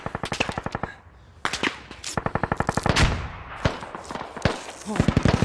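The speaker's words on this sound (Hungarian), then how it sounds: "Ismeretlen irányból lőnek rá." Gunfire in the military shooter Squad comes as rapid machine-gun bursts with scattered single shots, several sharp volleys in quick succession, some close and loud, others more distant.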